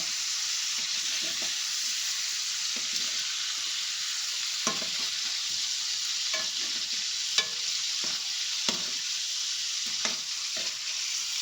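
Tomatoes and other pizza sauce ingredients frying in hot oil in a pan, a constant bright sizzle broken by repeated scraping stirs of a spoon, close and alone with no voices.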